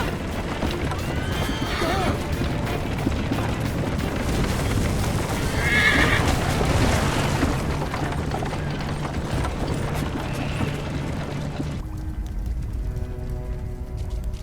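A horse neighs loudly amid clattering hooves and busy mechanical clanking, with a dense layer of action sounds throughout, in the video game Assassin's Creed: Liberation.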